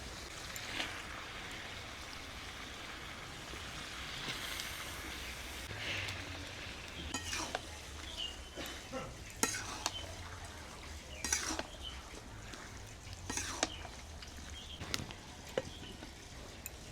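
Meat frying in a pan of cooked-down spice masala with chilli and turmeric powder, a soft steady sizzle broken by intermittent clinks and scrapes of a utensil against the pan, no voices.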